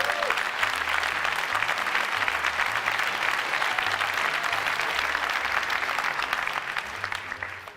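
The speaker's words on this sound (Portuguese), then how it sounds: "Impressionando, é claro, a todos que estavam lá, porque as palmas foram bem generosas." Generous audience applause at the 2008 unveiling of the first Apple MacBook Air, a dense, even crowd clapping heard from within the hall, sustained for several seconds without any talking over it.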